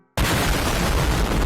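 A bin of old shop rags soaked in oil, gas and flammable liquids explodes in a repair shop, opening with a sudden loud boom that rolls into a sustained dense roar filling the short clip.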